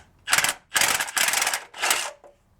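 Bolts being removed from the oil pan of an OBS 4x4 Chevy truck, four short bursts of clattering mechanical ratcheting, close and loud, with brief pauses between them.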